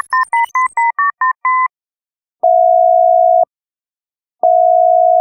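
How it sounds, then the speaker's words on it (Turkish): A quick run of two-tone telephone dialing beeps in a steady rhythm, followed by two long, loud, pure 2600 Hz tone bursts separated by silence, clean and electronic with no talking. "yapmaları gereken tek şey 2600 Hz sinyalini kesmek ve hemen bir telefon numarası çevirmek"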